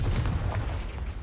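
A Confringo fire spell bursts in the Hogwarts Legacy video game, a short dense booming blast with a rumbling low-end tail.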